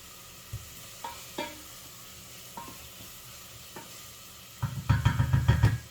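Portuguese linguiça sausage goes into a pot of black bean stew base. A few light utensil taps come first, then a loud, close burst of sizzling with stirring scrapes in the final second.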